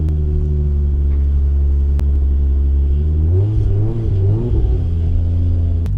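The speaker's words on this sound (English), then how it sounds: "we're gonna turn the car on and go for a drive" A single-turbo MKIV Supra engine runs loud and close, a steady low idle rumble that lifts into a brief uneven rev midway before settling again, with no talking.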